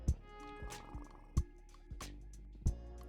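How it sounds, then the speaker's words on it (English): An alien creature purrs in the video game An Airport for Aliens, a soft, close, low purring hum broken by a few short, sharp clicks spaced about a second apart. "Oh, they purr."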